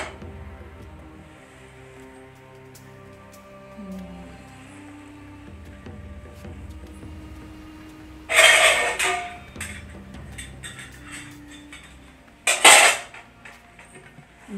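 Metal cooking vessels are handled in a home kitchen while cooking kappa and fish curry: two short, sharp clattering bursts stand out against a quiet background.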